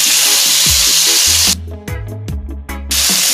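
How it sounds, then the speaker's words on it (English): Vegetables sautéing in about two tablespoons of oil in a pan give a loud, close hissing sizzle for roughly a second and a half, then drop away to a softer run of low tonal hums and brief bursts. "just enough to help to saute our vegetables"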